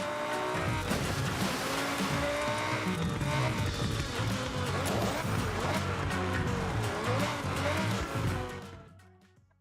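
A car in a racing video game drives steadily at speed, with a loud, continuous engine roar and some tire squeal. The sound holds near and constant, then fades out over the last second.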